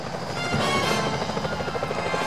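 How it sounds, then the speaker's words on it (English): A security helicopter in the video game Sly Cooper thrums steadily and close, its rotor chop pulsing evenly throughout with no talk. "Those security choppers are bad news."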